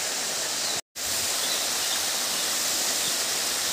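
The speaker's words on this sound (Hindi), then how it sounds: "पहाड़ों के बीच में ये झरने की वजह से नदी बनती हुई" Steady broadband rush of a river fed by a waterfall among hills near a temple, continuous and fairly close, with one brief dropout to silence early on and no voices.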